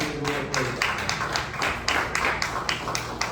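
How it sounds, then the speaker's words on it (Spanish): Congregation applause during a Yom Kippur service, a cluster of claps with distinct sharp strikes in an uneven rhythm, moderately close, with a faint background murmur beneath. "Dale fuerte el aplauso a Yeshua HaMashiach"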